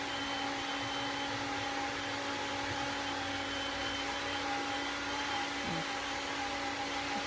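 A vacuum cleaner runs steadily in the background of a room, a constant whirring drone with a stable motor whine, faint and distant, with no talking.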